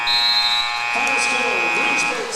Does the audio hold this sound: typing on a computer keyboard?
no